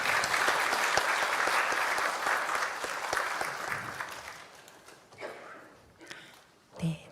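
An audience claps steadily for a plaque presentation at a church magazine's 70th anniversary thanksgiving service. The applause is dense at first, then thins and fades, with a few scattered claps near the end.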